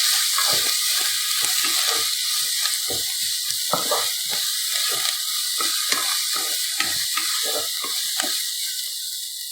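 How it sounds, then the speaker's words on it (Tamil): Onions, curry leaves and green chillies sauté in hot oil for brinjal gotsu, giving a steady, close sizzle with frequent crackles and light stirring scrapes throughout. "வெங்காயம் ஒரு 2 நிமிஷம் நல்லா வதங்கட்டும்."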